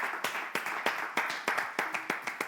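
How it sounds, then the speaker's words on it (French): At a children's talent competition, the audience claps in a steady, rhythmic beat. The claps are sharp and evenly spaced, about three or four a second, and are heard clearly on their own. "On applaudit, s'il vous plaît."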